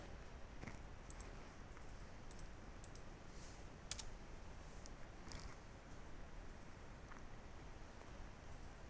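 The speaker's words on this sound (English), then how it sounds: "Now I just type this command." A command being typed on a computer keyboard, with faint, sparse key clicks over a steady quiet hiss and no voices.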